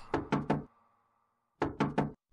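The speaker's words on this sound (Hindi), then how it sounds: "रतन सेन रतन सेन दरवाजा खोलो" A cartoon door is knocked in two quick bursts of three loud, crisp raps, separated by a short silence.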